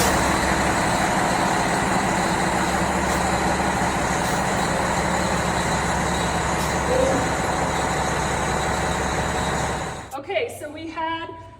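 Heavy fire apparatus truck engine rumbling steadily at close range as the rig creeps forward during tire chain fitting, a continuous loud drone that cuts off near the end, leaving brief clanks and movement.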